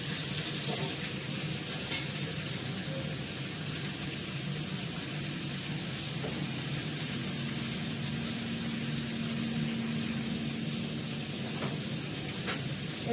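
Fish sizzles and hisses steadily in hot oil in a pan with ginger, a continuous close frying crackle with faint occasional clinks.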